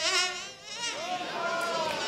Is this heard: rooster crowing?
no